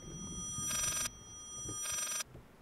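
An old telephone rings in the Layers of Fear horror game, two bright electronic ring bursts about a second apart over a low, murky ambient background.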